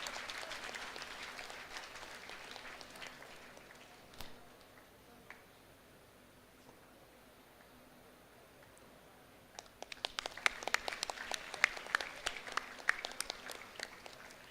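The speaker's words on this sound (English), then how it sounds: "a big applause, please." Applause from a conference audience at a career conclave session, faint and distant, with scattered claps at first, then a quiet lull, then a fuller burst of clapping toward the end.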